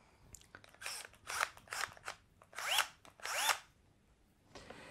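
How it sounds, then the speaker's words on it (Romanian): Cordless drill-driver, a discount buy, running in short repeated bursts of rising and falling whine, each a second or less, with quiet gaps between, fairly close and alone without talk. "Ce am prins din oferta EMAG de la reducere este o mașină de înșurubat și bormașină."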